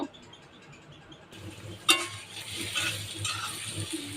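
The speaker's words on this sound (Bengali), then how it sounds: "তেলের মধ্যে পেঁয়াজ অনেকগুলি দিয়ে দিলাম।" A large amount of onion is dropped into hot oil. The first quiet second gives way to a loud, crackling sizzle that holds steady and near, with no talking.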